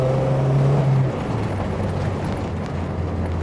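A modified K20-swapped Honda Civic EG with stiff, track-set suspension drives at night, its engine a loud steady drone heard from inside that drops in pitch after about a second.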